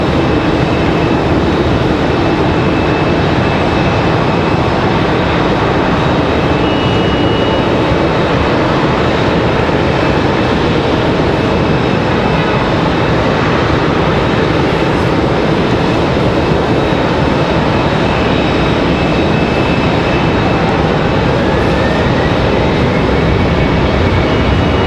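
Broadband jet roar from an Embraer E195 airliner at Raleigh-Durham International Airport, a loud steady wash of engine noise holding evenly without pause, no voices present.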